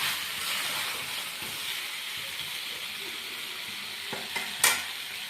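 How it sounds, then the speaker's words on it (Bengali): Pieces of mutton curry are stirred and scooped into a pressure cooker over a continuous sizzling hiss, with a few sharp metallic clinks near the end and no talking. "এবারে মাংসগুলো আস্তে আস্তে আমি প্রেশার কুকারে দিয়ে নেব"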